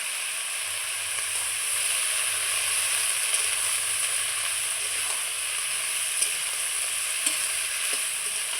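Chopped helencha greens hit a pan of potatoes and drumsticks already browned in oil, giving a continuous close hiss and sizzle with scraping from stirring and occasional small pops.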